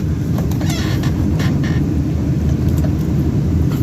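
An LS-swapped car that sat unused for about three years idles with a steady, loud low rumble, a continuous engine drone with faint higher clicks over it and no talking.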